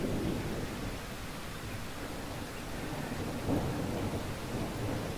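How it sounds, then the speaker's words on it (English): A thunderstorm sound effect of steady, dense rain with low rumbling thunder, loud and continuous throughout, with a heavier thunder swell rising near the end. "And now it's going to cut to our storm."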